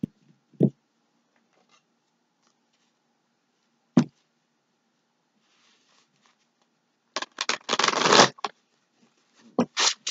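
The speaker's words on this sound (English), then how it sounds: "Please excuse my shuffling." A bulky deck of tarot cards being shuffled by hand: a few sharp isolated card snaps and taps amid silence, then a dense riffling burst lasting about a second near the end, recorded close.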